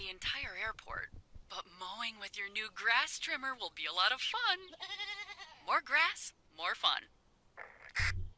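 Repeated synthetic goat bleats, wavering and nasal, come in quick bursts with short gaps, loud and close, in the video game Airport Renovator.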